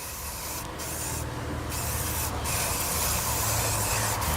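An aerosol can sprays in a steady close hiss lasting a few seconds, with slight bursts along the way.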